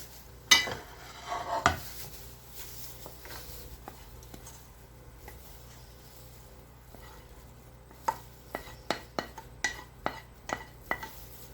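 Onions going into a cooking pot for a meatball tomato sauce: a brief clatter and rustle near the start, then a run of sharp, evenly spaced taps and knocks toward the end, with no talk.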